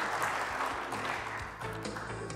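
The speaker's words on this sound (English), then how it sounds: "How about a big round of applause for Chef Ryan, and keep it going for the Mesa Hilton." Audience applause at a live morning television show in Mesa, following a cooking segment with a chef. Steady, dense clapping fills the short stretch at an even level, with some background sound underneath.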